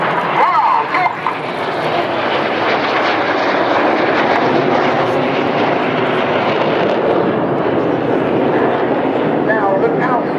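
Red Arrows jets flying an opposition barrel roll at the Sunderland Airshow, a loud, steady roar of jet engines filling the whole stretch, with faint crowd noise beneath.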